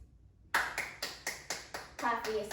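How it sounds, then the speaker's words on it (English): Hand claps from a woman leading a floor-based pole conditioning workout: about eight sharp, close claps in a steady even rhythm after a moment of quiet, with a voice talking over the last few. "Clap for yourself."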